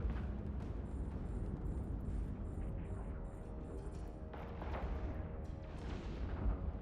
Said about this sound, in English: the Drake opens fire.